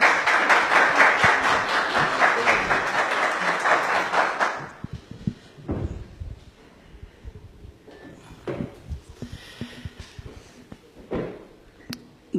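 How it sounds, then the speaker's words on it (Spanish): Audience applause welcoming Dr. Ernesto Pazmiño at a public event, a dense burst of clapping for several seconds that stops abruptly, followed by scattered room noises and shuffling. "pedirle un caluroso aplauso para recibirle"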